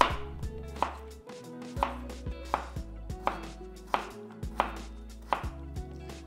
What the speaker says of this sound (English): For the stem part of the celtuce, first peel the skin, then cut into slices.